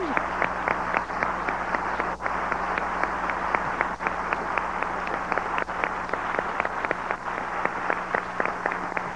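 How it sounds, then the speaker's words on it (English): Audience applause at a religious speaking event in Philadelphia: steady, moderately loud clapping that holds evenly throughout, with a low background hum and sharp individual claps standing out from the dense wash. "Let us applause for Jesus Christ."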